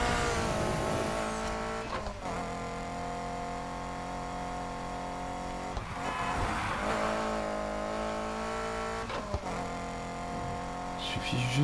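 Racing cars roar in Need for Speed Heat, with a loud, sustained engine drone that rises and drops through gear changes, broken by brief tire skids and squeals, while someone talks over the game.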